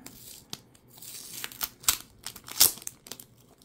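A Tim Hortons trading card pack wrapper torn open by hand, with sharp crinkling foil rips in short bursts, the loudest near the end, close and clear with no talking.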